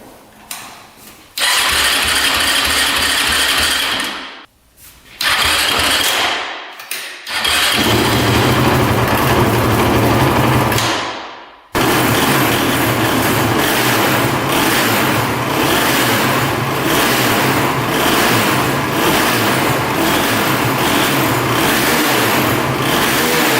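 Honda TRX450 ATV engine cranking and catching several times, cutting out between tries, then settling into a loud, steady, close-up idle with a rapid thumping rhythm.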